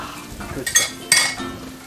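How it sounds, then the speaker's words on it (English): A whisk clinks and scrapes against a metal pan while dill is whisked into a sauce, with a few quick bright metallic strokes over a low sizzling background, close up. "Whisk it in."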